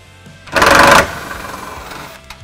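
A torque wrench, likely a ratcheting one, tightens an M6 screw on a Mopar trail rail cargo system on a Jeep Gladiator JT. It sounds as one loud, rapid burst of ratchet clicking lasting about half a second, then fades to quiet.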